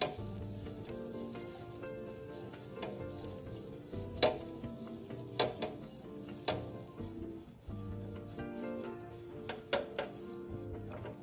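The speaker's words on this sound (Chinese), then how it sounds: "接着再将备好的蒜末也加进来，" Minced garlic stir-fried in a hot wok gives a steady, soft sizzle. A spatula scrapes and taps against the pan now and then, close and at low volume.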